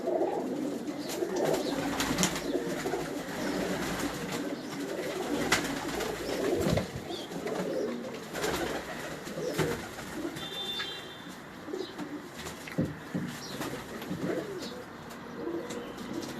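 Pigeons kept by a fancier in Karachi, including an old bird and a Teddy pigeon, coo in soft repeated phrases near the microphone, with scattered wing flutters and faint chirps amid light background noise.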